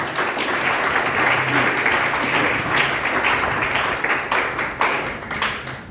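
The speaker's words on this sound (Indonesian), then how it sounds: "Tepuk tangan yang terbaik." A church congregation applauds in a steady, dense wash of clapping that fills the room at a constant loud level for several seconds.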